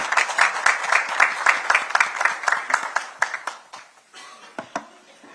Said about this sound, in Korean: 우리 최고위원들께서 박수 한번 보내주시기 바랍니다.